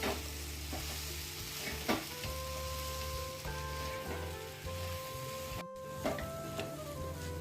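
Raw banana curry with garam masala and spices sizzling in a pan, a steady close frying hiss with periodic spoon scrapes and knocks, plus a faint steady tone in the background.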